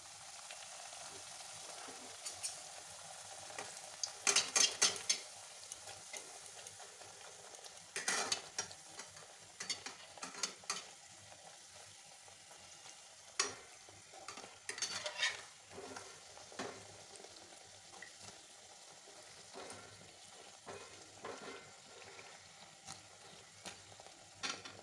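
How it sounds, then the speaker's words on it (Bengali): Besan kachoris fry in oil in a wok with a soft continuous sizzle, broken by occasional louder crackles and utensil clinks, fairly quiet and close, with no speech. "এবার এখানে একটা একটা করে ভেজে নেব"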